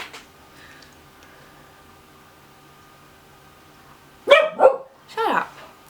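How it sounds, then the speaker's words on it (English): A dog indoors barking at another dog outside: two or three sharp, close barks near the end after a mostly quiet stretch with faint background sound. "He's talking to another dog outside."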